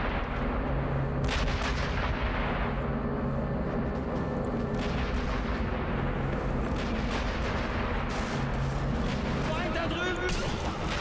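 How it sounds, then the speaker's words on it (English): Constant, heavy gunfire with rifle shots and booming blasts from the video game Sniper Elite V2, loud and continuous, with talk mixed in beneath the shooting. "it's very loud up here, so a lot of my shots will be covered by the gunfire."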